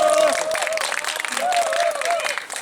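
Applause welcoming a speaker at an outdoor Progressive Party political rally in Gyeongju, crowd clapping under a voice speaking over a microphone for under three seconds.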